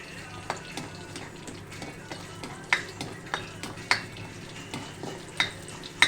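Cashew nuts sizzle as they fry for semiya payasam, a steady close hiss under a regular series of sharp metal spoon taps and scrapes against the pan, with no voices.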